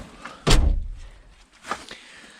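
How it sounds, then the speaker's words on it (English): A door inside a van being converted is pulled shut, giving one loud solid thud near the start, followed by quieter rattles and a smaller knock, with no talking. "let me shut this door here quick"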